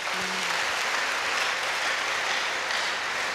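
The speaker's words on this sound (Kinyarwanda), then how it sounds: "duhe Yesu amashyi," A church congregation applauds for Jesus during a sermon: loud, steady clapping from many hands fills the space throughout, close and continuous, with no speech on top.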